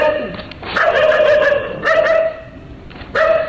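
Dogs bark in short bursts, several yelping, whining barks repeated at irregular intervals, fairly close and loud, heard at a property with a closed boundary wall and gate.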